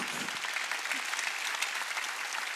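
Steady, dense applause fills a Korean church's Wednesday worship service, a congregation clapping together without pause, close and full throughout.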